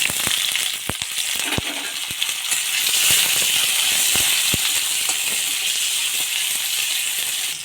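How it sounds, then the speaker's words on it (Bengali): Chopped onions frying in mustard oil in a wok, a loud continuous hissing sizzle with scattered sharp crackles and pops. "পেঁয়াজ প্রায় ভাজা হয়ে গিয়েছে"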